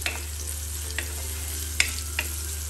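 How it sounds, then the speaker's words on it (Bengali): Tangra fish curry with papaya and potato frying in a pan, a steady sizzle with several sharp scraping knocks of a spoon stirring against the pan, close and with no talking. "এখন আমি নাড়াচাড়া দিব"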